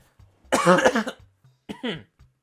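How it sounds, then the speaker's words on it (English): Two close, harsh coughs, a longer raspy burst followed by a shorter one, with faint clicks in the quiet between. "Sorry, guys, I got a cough again."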